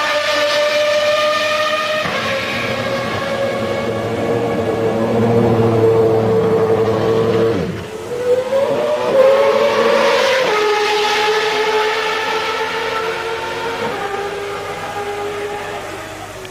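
McLaren Formula One cars lapping in the second qualifying session, a loud sustained high-revving engine whine with strong harmonic tones that shift in pitch as cars pass, dipping briefly near the middle before rising again.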